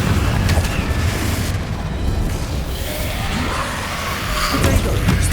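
Confringo explosive spells in Hogwarts Legacy burst with heavy booms and crackling blasts over a dense, continuous rumble of combat, loud and close throughout.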